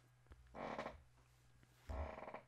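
Two short creaking groans from a chair, one after the other with a pause between, close by and fairly quiet, with no talking.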